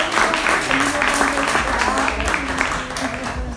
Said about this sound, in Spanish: para don Humberto, por favor. Un aplauso también para todos y cada uno de los que nos